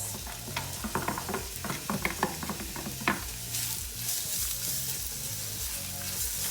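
Onions frying in canola oil crackle and sizzle steadily in a pan, with a run of sharp stirring clicks and scrapes early on that give way to a denser, hissing fry.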